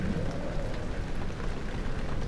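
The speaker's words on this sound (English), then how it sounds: "Is it raining outside? Oh my god, I absolutely love the rain." Rain in the horror video game Amnesia makes a steady, muffled patter with a low rumble beneath it, a continuous ambient wash at moderate volume and no voices.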